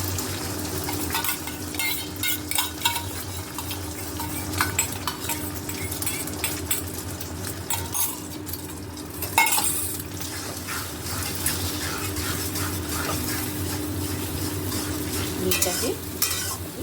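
Eggs fry in hot oil in a wok, a continuous loud sizzle broken by frequent scraping and clinking of a utensil against the metal as they are stirred, with no talk.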